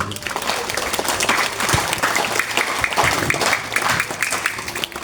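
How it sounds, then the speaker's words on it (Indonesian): A seated audience at an Islamic lecture about the honour of teachers gives loud, continuous applause, a thick wash of many clapping hands with a few sharper claps standing out. "Tepuk tangan ya Bapak Ibu."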